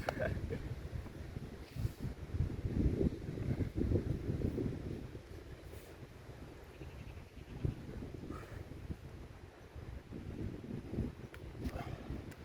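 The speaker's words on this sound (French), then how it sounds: "il y a vraiment beaucoup de vent" Heavy wind buffets the microphone in low, rumbling gusts that rise and fall throughout, with no other clear sound standing out.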